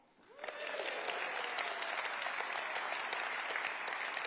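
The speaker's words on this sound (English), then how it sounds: "Maybe, Shafak, you could start the applause again." Conference audience applause at a Liberal Democrats keynote speech, rising quickly from quiet into steady, sustained clapping from a large crowd that carries on evenly to the end.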